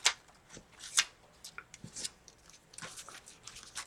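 Paper prints are shuffled through by hand, making soft, irregular rustles and flicks that stay quiet and close, with no talking.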